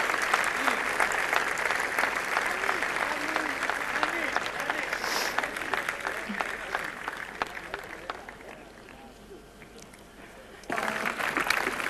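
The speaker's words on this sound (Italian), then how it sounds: "Foto di rito, applausi." Audience applause at an Italian film award ceremony, the Nastri d'Argento 2011 in Taormina: steady, dense clapping from a large crowd filling the whole stretch, easing slightly near the end before swelling again.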